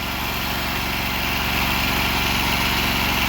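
A Predator 670 engine driving a pressure washer runs continuously at a steady, loud drone with a fine rhythmic pulse, close by, with no pauses or talk.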